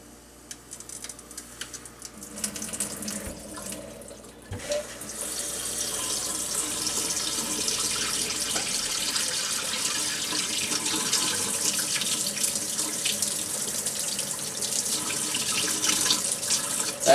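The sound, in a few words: kitchen faucet running hot water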